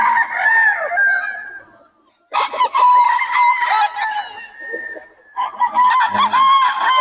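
Loud roosters crow repeatedly at close range, in several long, strained calls separated by brief pauses.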